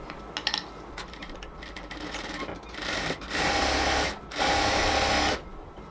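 Sewing machine stitching the leg of palazzo pants, two sustained bursts of rapid motor whirring and needle clatter separated by a short pause, close up, preceded by light handling taps.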